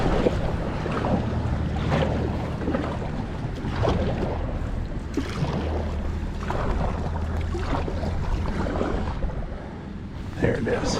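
A kayak fitted with fishing gear and a Garmin Striker Vivid 4cv fish finder moving fast across open water, giving a steady rushing wash of water and wind noise against the microphone, with occasional splashes.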